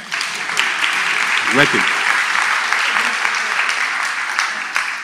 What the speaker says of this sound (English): Let's clap for our brother.